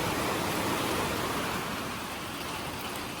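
Dense, steady rain roars loudly on a steel roof, a constant hiss with no gaps, and no one speaking.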